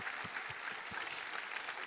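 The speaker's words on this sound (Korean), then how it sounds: "우리 하나님께 감사와 영광의 박수 올려드리겠습니다" A church congregation claps during a Sunday worship service, a faint, even wash of applause that holds steady for a couple of seconds.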